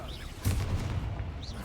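A Bombarda explosion spell goes off in the video game Hogwarts Legacy: a loud, low booming blast lasting about a second over game ambience, with faint synthetic whooshes before and after.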